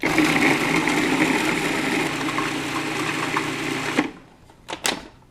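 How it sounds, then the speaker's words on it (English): Food processor chopping bread into breadcrumbs, with a loud steady motor whir and gritty churning for about four seconds, then stopping, followed by a few faint clicks and knocks. "So all this goes into the food processor."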